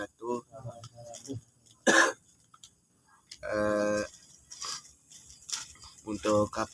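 A person coughing in short, sharp bursts between stretches of speech, fairly close indoors, with talking heard around the coughs.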